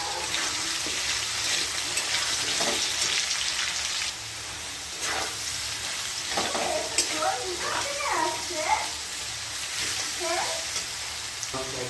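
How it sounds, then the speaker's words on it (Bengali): Shredded cabbage stirred and fried in a pan at home, giving a steady close sizzle with scraping spatula strokes and clatter throughout, no speech over it. "বাঁধাকপিটা দিয়ে দিয়ে এবার ভালো করে নেড়ে নিই।"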